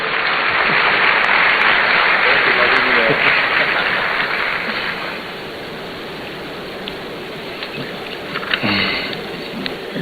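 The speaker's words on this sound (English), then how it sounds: "Please, round of applause for him, ladies and gentlemen." Dense, steady applause from a large crowd at a student entrepreneurship programme launch in Ghana fills the space, gradually easing off midway to a lower, thinner clatter.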